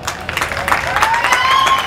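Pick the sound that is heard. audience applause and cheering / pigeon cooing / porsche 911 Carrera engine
audience applause and cheering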